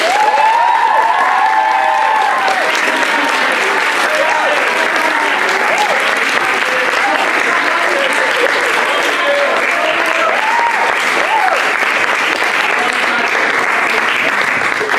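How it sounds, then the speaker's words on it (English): Sustained audience applause at a certificate presentation ceremony for an ENT course, steady and dense for the full length, with faint cheers and voices mixed in. "big, big, big round of applause and thank you"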